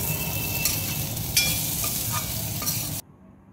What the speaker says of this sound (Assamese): এয়া মোৰ তিতাকেৰেলা ভাজি বনাই হৈ গ'ল।